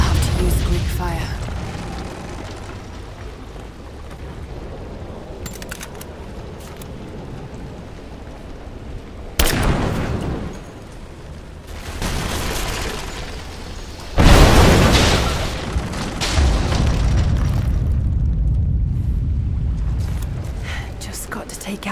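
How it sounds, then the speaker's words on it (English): Greek fire vessels bursting into flame in Rise of the Tomb Raider while knocking out an unstable statue's supports: two heavy booming whooshes, one mid-way and a louder one later, with some talk over a low rumbling backdrop. "Looks like I'll have to use Greek fire."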